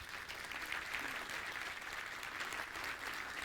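A seated audience at an architecture talk on BIM claps together in a steady, dense wash of applause that holds at an even level throughout, with no voices over it.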